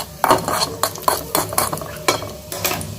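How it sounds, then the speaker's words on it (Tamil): Raisins frying in a pan for sugarcane payasam, with a spoon stirring and clinking against the metal in irregular close scrapes over a faint sizzle. "திராட்சை நல்லா பொரியட்டும்"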